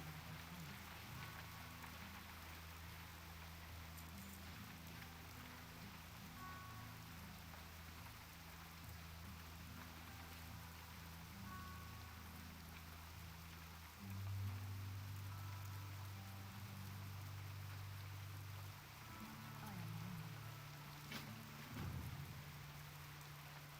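Steady rain with distant rumbling thunder in the video game Turtle WoW, a continuous faint hiss of falling drops under a low droning background.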